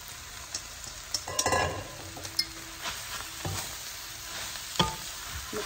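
Noodles and wilted cabbage being stir-fried for Indonesian mie goreng, with a steady low sizzle, scattered scraping and clanking of a utensil against the pan, and a few sharper knocks.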